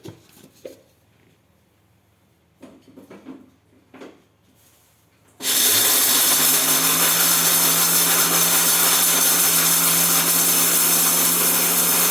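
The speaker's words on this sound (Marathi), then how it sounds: "आपण आता सर्व मिक्सरमधून फिरवून घेऊ" A few soft knocks and clatters, then a kitchen mixer grinder's loud, steady motor roar with a high whining grind kicks in and runs continuously to the end.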